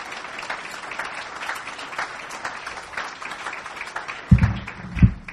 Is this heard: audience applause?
yes